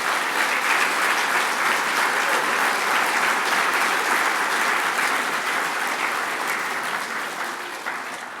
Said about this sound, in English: So clap as loud as you can so that they can hear you.